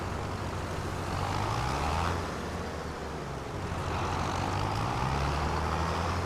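A tractor engine strains uphill in Farming Simulator 25, a steady loud low drone that dips slightly midway and then rises again, with no talk over it.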